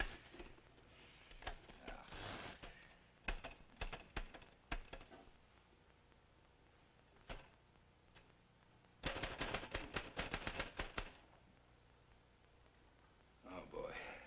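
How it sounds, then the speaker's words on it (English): Someone fiddles with a jammed typewriter, making bursts of rapid mechanical clacks and taps, a short cluster early on and a denser rattle near the end, with quiet gaps between. "Don't wreck the whole typewriter. Wreck it. It's already wrecked. It's jammed."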